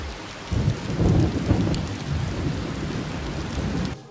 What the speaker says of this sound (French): Dans cette série, il pleut beaucoup.